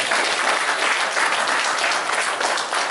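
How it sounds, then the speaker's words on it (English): Dense, steady applause from the audience at a PDP ward representatives' retreat at the Transcorp Hilton, Abuja, loud and continuous with no speech over it. "I think the PDP deserves a round of applause for this."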